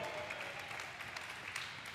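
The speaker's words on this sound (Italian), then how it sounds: "Un applauso!" A group cycling contest crowd applauds, sounding fairly distant and modest in volume, with steady, even clapping throughout.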